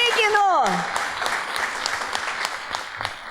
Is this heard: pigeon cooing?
no